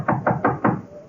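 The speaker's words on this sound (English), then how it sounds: "I knocked on his door." Four firm knocks on an office door along a corridor, evenly spaced and close by, with no voices.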